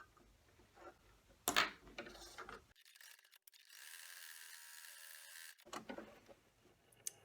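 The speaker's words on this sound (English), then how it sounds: "I'm just going to lay that over top and do the tack down, or what is known as the cut line stitch" An embroidery machine stitching a tack-down cut line for an in-the-hoop heart coaster in a 4x4 hoop: soft mechanical clicking and rubbing, then a steady high-pitched whirring run in the middle, followed by more faint rattles.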